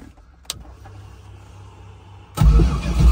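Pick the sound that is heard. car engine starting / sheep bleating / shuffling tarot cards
car engine starting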